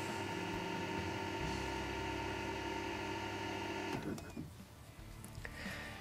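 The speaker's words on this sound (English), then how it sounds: "The pump is cut in, as we can hear." External rainwater tank pump running with a steady electric motor hum and whine for about four seconds before it cuts out, leaving faint background noise.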